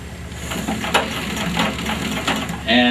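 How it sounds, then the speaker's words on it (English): An old treadle-powered pedal sewing machine runs steadily with a busy mechanical clatter of repeated ticks and knocks, close and continuous under faint background murmur. "this is a pedal sewing machine"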